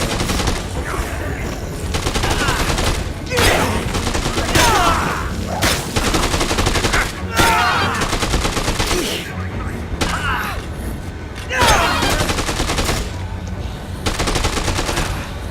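Rapid automatic gunfire from the video game Dead Rising 2 amid hordes of zombies, loud bursts of repeated shots broken by brief pauses, with a player talking over it.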